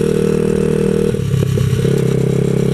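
A 127cc X7 pocket bike engine idles loud and close, running roughly with a buzzy, uneven drone that stumbles and dips briefly midway before picking back up, with no talking.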